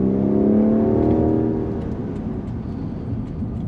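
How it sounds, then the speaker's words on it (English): Heard from inside the quiet cabin, a Rolls-Royce Wraith Black Badge engine of over 600 horsepower accelerates. A smooth, rising growl swells early and then settles into a steady, muted roar with road noise. "You can only hear the engine when you step on it,"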